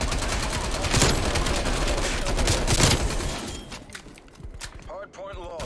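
Rapid bursts of automatic gunfire crackle in a Call of Duty: Cold War match, dense and loud for several seconds before thinning out, with voices speaking over the shooting.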